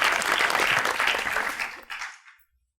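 Studio audience on a Pakistani TV talk show breaking into loud, sustained applause that stays strong, then thins out and fades to silence near the end.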